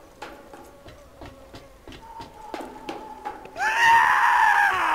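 A loud, shrill scream suddenly bursts out in the Mad Max video game after a run of soft, rhythmic tonal blips, and it holds strongly through the last second.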